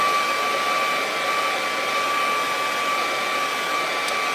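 A hair dryer runs continuously to dry a lighthouse painting in progress, a steady, close, fairly loud whirring blow with an even tone that holds for the whole stretch, no talk over it.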